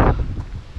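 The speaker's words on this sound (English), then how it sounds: "How crazy is that wind?" Strong wind blowing on the northern coast of Scotland, a loud buffeting rush battering the microphone, continuous and close.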